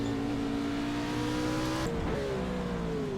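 A race car engine in an off-road race, loud and continuous, its steady drone shifting pitch partway through as the car crests a rise and briefly catches air, then settling into a new tone.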